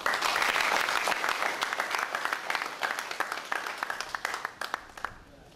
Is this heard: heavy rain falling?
no